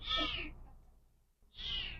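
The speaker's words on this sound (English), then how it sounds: "That must have been the cat that I heard." A cat meows twice inside a building, each call loud and near, with a short quiet gap between them and no talking.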